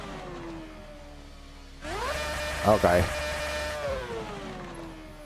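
Race car engine in the video game Assetto Corsa played in VR: a steady mid-pitched drone that surges into a louder rev for a couple of seconds, then settles back, while a person talks over it.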